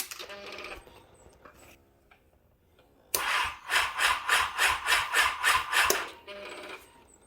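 A Kawasaki ZX10R motorcycle engine cranks slowly with a rhythmic, labored churning of about nine even strokes, following quieter mechanical clicks and rustling; it never fires.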